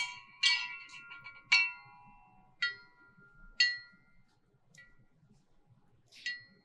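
Planetary wind chimes, tuned like gongs, are struck one at a time in a quiet room, each bright metallic ring sounding clearly and then fading, with several strikes spread out irregularly.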